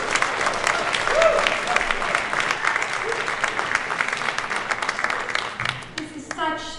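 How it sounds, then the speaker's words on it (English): Crowd applause at a film premiere event, a steady wash of many hands clapping that gradually thins, followed by a voice beginning to speak near the end. "Give yourself an applause."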